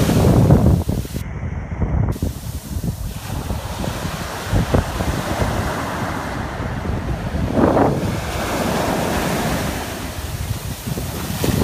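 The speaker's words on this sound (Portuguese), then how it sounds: "o mar hoje tá muito agitado" Rough, churning sea waves surge onto the beach at Maceió, Alagoas, in a steady roar with gusty wind buffeting the microphone throughout.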